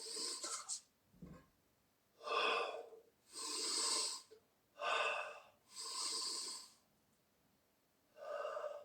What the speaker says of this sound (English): breathing is very important, so do breathing exercises